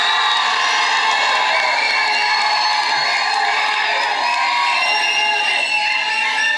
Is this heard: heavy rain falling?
no